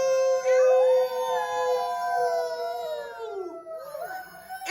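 A person's voice imitates a wolf's howl, a close, sustained wail that rises and then slowly falls over several seconds, with nothing else behind it.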